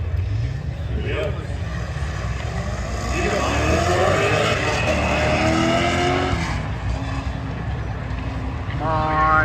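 A Chevrolet Corvette C6 runs a spectator drag race against a Tesla at the Freedom Factory, its engine revving and rising through gears in a loud, continuous roar, with crowd voices nearby.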